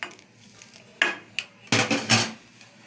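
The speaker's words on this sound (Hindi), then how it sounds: "और अच्छी तरह मिक्स करूंगी।" Spoon stirring boiled milk into cream in a pot while making village desi ghee, giving a few irregular clanking scrapes against the metal that grow louder and more frequent toward the end, with no voices.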